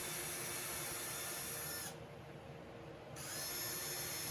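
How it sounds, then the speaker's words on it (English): A power drill bores pilot holes into a wooden board for 2-inch screws, a steady close high whine that drops away briefly in the middle and then resumes, with no talking. "now I'm going to carefully drill pilot holes into the other board"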